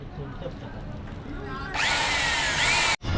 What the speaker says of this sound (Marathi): नंबर प्लेट ह्याच्यातनं काढायला लागते जे आपलं हे असतंय ना रिबिटर ड्रिल मशीनच्या साह्याने